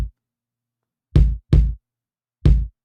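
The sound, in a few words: live kick drum sample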